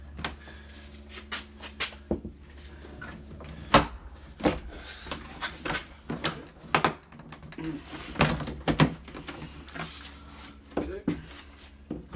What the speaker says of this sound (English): So this panel just comes off with clips after you remove those 2 screws.